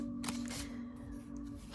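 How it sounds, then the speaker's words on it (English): Oracle cards from a flower-themed deck being shuffled by hand, a soft papery riffling and sliding in short bursts, close and fairly quiet, with no talking. "it's difficult to shuffle in this position when you are trying to film"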